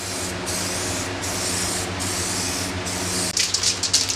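A spray can sprays a coat onto a BMW 3 Series car headlight during a restoration, a steady close hiss with brief pauses, then short sputtering bursts near the end.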